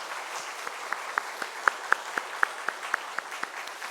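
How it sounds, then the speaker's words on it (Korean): Church congregation at an afternoon praise service in Namyangju applauding in blessing: sparse, moderately loud claps, some standing out sharply, in a slow irregular scatter over a soft room background. "다시 한번 큰 박수로 한번 축복할까요"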